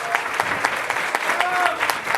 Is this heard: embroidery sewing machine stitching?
no